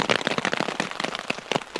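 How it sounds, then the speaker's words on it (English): Heavy rain pours down in a forest on Dartmoor in winter, a dense, close patter of drops drumming on a hammock shelter in quick irregular bursts. "Here comes another downpour."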